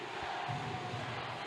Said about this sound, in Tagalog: the Davaoenyo contingent crowd has come alive in the 4th quarter